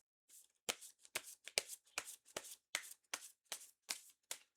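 Tarot cards shuffled and drawn from the deck during a Korean reading, a close rapid run of about a dozen crisp card flicks and slaps in steady rhythm, with no talk.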